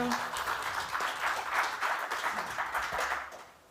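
Audience at a startup pitch competition claps for a presenter, a fairly faint burst of applause lasting a few seconds before tapering off.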